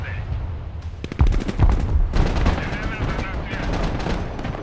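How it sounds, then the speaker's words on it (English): Terminator vehicle gunfire in the war game Broken Arrow, a close, loud stream of rapid automatic bursts and heavy impacts over a continuous battle rumble. "This is what the Terminator was built for, shooting up into high-rises like that."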